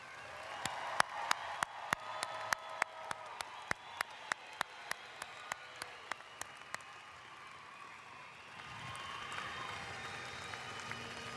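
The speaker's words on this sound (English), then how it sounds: "How about one more round of applause for the graduates tonight?" Applause from a college graduation crowd in a wide space, soft and distant overall, with one nearby person clapping in a sharp, steady rhythm before it stops and the room murmurs on.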